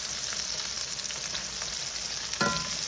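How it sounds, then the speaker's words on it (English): Shrimp frying in a pan, a dense steady sizzle crackling close up throughout, with a brief clatter near the end and no voices. "All these in here, let them fry."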